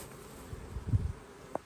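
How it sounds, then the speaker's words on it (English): Honey bees buzz in a low, steady drone around a hive with a feeder, with a few louder passes close by and no talking. "too many bees doing nothing, and you see a load of bees in the feeder"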